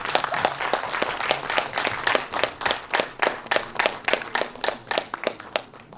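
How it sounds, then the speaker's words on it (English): Audience clapping at an academic faculty development program, a steady run of sharp, fairly close hand claps repeating quickly and evenly throughout, with no talk over it. "Clapping is also a form of exercise."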